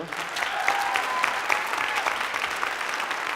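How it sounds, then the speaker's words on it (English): A theatre audience after a school performance of You're a Good Man, Charlie Brown claps for the front of house, tech and backstage crews, a brief burst of full, steady applause with one thin whistle early on. "So, round of applause for all them too."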